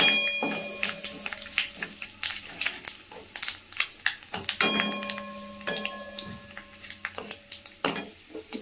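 Whole spices, dried red chilli and bay leaf go into hot oil for a chutney, bringing a light sizzle broken up by sharp clinks of utensils against the pan, with scattered taps and scrapes throughout.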